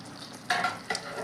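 Eggs dropped into tomato curry in a pan, giving two short bursts of sizzle and stirring scrape over a low background hiss, close and without voices.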